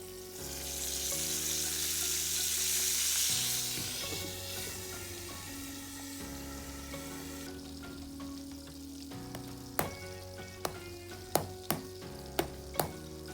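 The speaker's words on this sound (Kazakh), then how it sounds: "Балықты мінекей қуырып алдым" Flour-coated fish fries in hot oil with a soft, steady sizzle that crackles more at first, followed later by several sharp metallic taps of a utensil, all fairly quiet.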